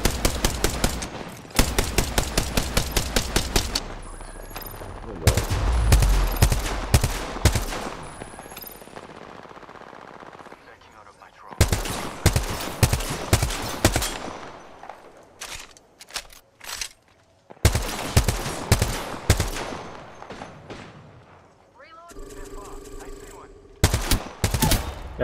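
Apex Legends video game gunfire in repeated rapid automatic bursts, sharp rattling strings of shots separated by brief quiet gaps, loud and close, with occasional quieter clicks between volleys.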